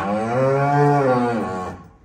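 A cow with calves gives one long, loud, close moo that rises and then fades out.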